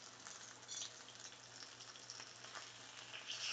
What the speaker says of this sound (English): We should pick it up and sear off the sides.